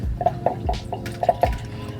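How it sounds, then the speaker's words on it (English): Reverse osmosis water poured into a bowl set inside a wok while making ramen, heard as a close series of splashy drips and small glugs at an uneven rhythm. "AmiraCole, please add my 2 cups of reverse osmosis water."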